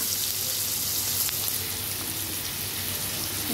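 Chopped onions frying in a pan for ghugni, a steady, even hiss and sizzle of moderate loudness, continuous throughout with no talking.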